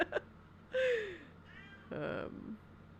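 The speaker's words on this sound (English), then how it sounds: "Damn, Kitty. Shut up" A house cat meows nearby indoors, two drawn-out meows with a short gap between, moderately loud over a faint hum.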